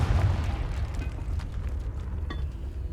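Confringo fire spell blast in the video game Hogwarts Legacy, cast inside a tomb: a low, rumbling boom at the start that fades into a dull, reverberant tail with faint clinks.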